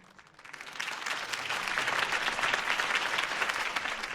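Crowd applause in the video game Batman: The Telltale Series at a Harvey Dent campaign rally, a dense wash of clapping that swells after a quiet first half-second and then holds steady and loud to the end, with no talk over it.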